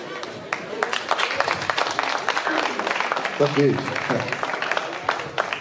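Crowd applause at a professional boxing event in an arena in Essen, Germany, with scattered individual claps over a background murmur and someone speaking briefly in the middle.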